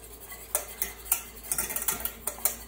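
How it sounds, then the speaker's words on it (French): A utensil beats cold egg yolks in a bowl, a quick series of bright clinks and taps against the sides, fairly close and fairly quiet, with no talk. "vos jaunes d'œufs, à froid, vous pouvez déjà directement les mélanger"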